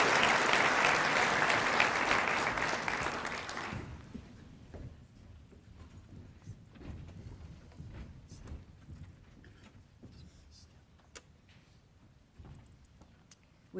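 Applause at a girls and women in sports luncheon honoring Chaparral athletes, a loud burst of dense clapping for about four seconds that then drops to faint scattered claps and room noise.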